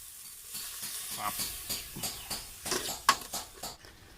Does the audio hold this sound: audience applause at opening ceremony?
no